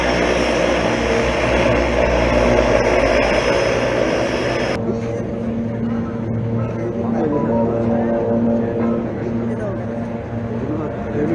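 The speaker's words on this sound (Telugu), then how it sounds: "ఇక చూడు ఎట్లా పోతుందో నీళ్ల మీద విమానం." A seaplane moving over water, its propeller engine droning steadily and loudly, then dropping in level and tone midway as it pulls farther off, with a voice speaking over it.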